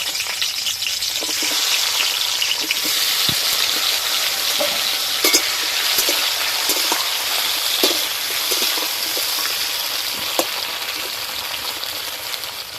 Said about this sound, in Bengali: কাঁকরোল ভাজা হতে থাক